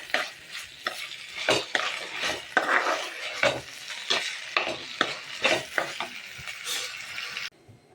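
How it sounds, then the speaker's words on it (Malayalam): A spoon stirs tomato rice in a pan, giving repeated sharp scrapes and clinks against the metal over a soft sizzle, close by and steady, with no voices. "ഇനി നമുക്ക് നന്നായി ഇളക്കി യോജിപ്പിക്കാം."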